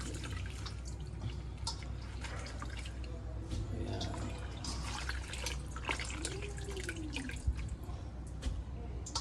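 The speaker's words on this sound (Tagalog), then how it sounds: "ito lalagay natin sa tubig. Banlawan lang natin." Salted cabbage for kimchi is rinsed in a basin of water, giving a steady wash of splashing and dripping water with small sloshes throughout, fairly close and continuous.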